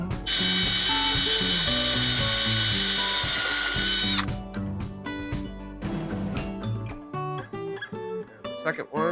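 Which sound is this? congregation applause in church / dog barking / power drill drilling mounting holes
power drill drilling mounting holes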